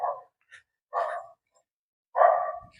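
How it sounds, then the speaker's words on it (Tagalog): Dogs bark in a residential housing area in Naic, giving three separate barks spaced about a second apart, fairly close and loud, with no talking over them. "Pagka pumunta ka doon sa territorial nila, parang tatahulan ka ng tatahulan"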